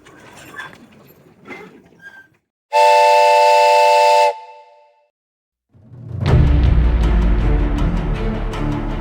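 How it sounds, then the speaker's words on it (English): A small seated tour train at the Queen Mine in Bisbee, Arizona sounds a loud, steady whistle tone for about a second and a half, then rumbles and clatters loudly along the track after a short pause. "We're riding a little train."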